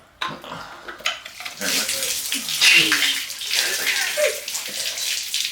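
Plain water with no antifreeze gushes out of a Nissan 300ZX engine's cooling system, a loud, continuous pouring and splattering that swells after a few clunks, with people talking nearby.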